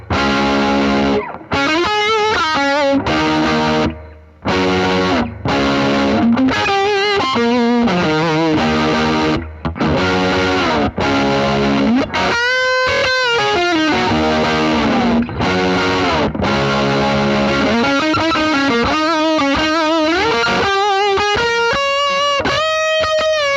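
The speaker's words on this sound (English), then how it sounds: "Now we're starting to get a little bit more distortion in there." Electric guitar played through a JHS PackRat distortion pedal, a thick, saturated lead tone with continuous loud noodling, bends and sustained notes over more than twenty seconds, with only brief gaps between phrases.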